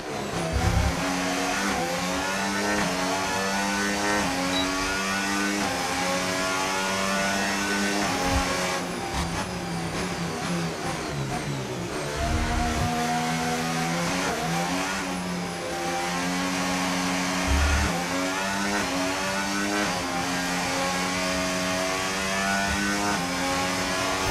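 Formula 1 race car engine in the F1 25 racing game, a loud sustained high-pitched whine rising and falling through gear shifts and revs, close and continuous for the whole stretch with no talking.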